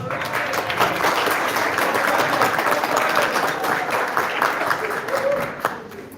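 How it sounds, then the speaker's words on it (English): Wedding guests applaud for Kevin at a reception, a steady wash of clapping from a sizeable crowd that holds level throughout, with a murmur of voices mixed underneath. "How about a big round of applause for Kevin?"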